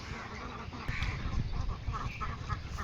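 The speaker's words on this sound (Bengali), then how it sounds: "এই হাঁসের জাত হচ্ছে কাকি ক্যাম্বেল" Khaki Campbell ducks quack in a loose flock, repeated nasal calls at moderate distance over a busy rustling background.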